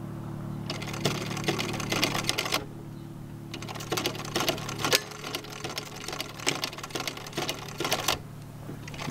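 A sewing machine stitches a flexible magnetic window screen in short bursts of rapid needle clatter, pausing between runs over a steady low hum.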